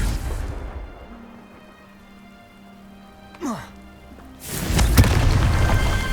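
A Confringo fire-spell explosion in the video game Hogwarts Legacy: a short whooshing cast, then a loud, broad blast with a sharp crack that fills the last seconds over a low background rumble.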